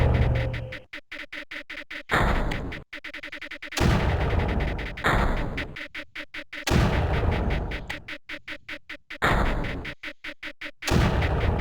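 Mortar and turrets firing in the Creeper World video game, repeated booming shots in rapid bursts with short gaps between volleys, loud and continuous.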